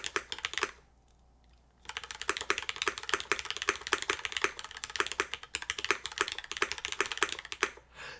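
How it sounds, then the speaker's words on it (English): A Blaine V2 mechanical keyboard with an O-ring mount, aluminum plate and MX2A switches is typed on in rapid, continuous keystrokes, close and clear, after a short pause near the start. "Let's see what this board sounds like in the O-ring configuration"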